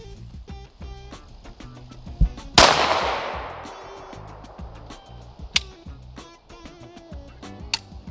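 A Shadow Systems CR920XP pistol fires at an outdoor range, with one loud sharp crack followed by a ringing decay and a few more spaced shots that sound farther off.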